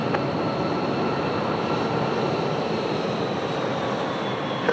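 Steady broadband roar of an aircraft on landing approach to runway 1 center at an airport, a continuous engine and airflow rumble holding at an even level throughout with no voices.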